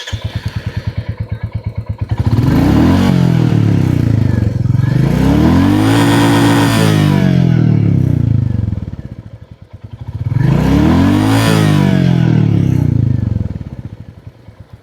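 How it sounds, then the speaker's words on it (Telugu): A Royal Enfield Classic 350 Gorkha Edition, a single-cylinder 350 cc bike, idles with a thumping exhaust beat up close. It is revved twice in long, rising and falling pulls, then settles back to its steady idle thump, with no talking. "ఇప్పుడు ఒకసారి మనం ఎగ్జాస్ట్ నోట్ అలాగే ఇంజన్ సౌండ్ విందాం."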